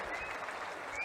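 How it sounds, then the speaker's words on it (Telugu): An audience at a political speech by a state chief minister gives a short burst of dense, even clapping. "గట్టిగా చప్పట్లు కొట్టి"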